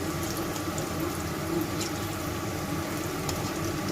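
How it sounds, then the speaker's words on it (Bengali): Paneer lightly frying in a pan gives a steady, dense sizzle that holds at an even level from start to finish, with no voices. "হালকা ভেজে নিচ্ছি পনিরটা"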